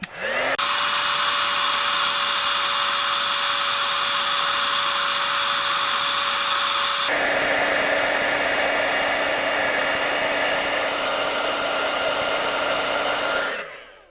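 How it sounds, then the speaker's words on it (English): A heat gun melts gold embossing powder on a handmade card, blowing a steady, loud whirring roar for about thirteen seconds whose pitch drops partway through, with no talk. "I'm going to heat emboss this real quick"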